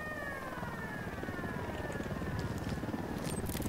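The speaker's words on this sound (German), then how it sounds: "Hubschrauber im Anflug." An approaching helicopter in the video game Ghost Recon Wildlands, a steady throbbing rotor drone with a faint rising whine above it, constant and moderately distant.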